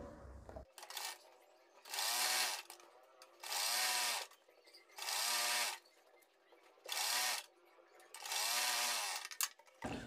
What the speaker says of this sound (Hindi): इस तरीके से पूरी सिलाई हम कंप्लीट कर देंगे सीधी